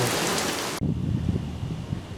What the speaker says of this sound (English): starting out the month with some good rain